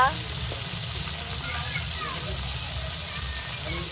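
Turmeric, chili and coriander powders hit hot oil in a pan and sizzle with a loud, continuous hiss close by, steady throughout, with a voice talking over it.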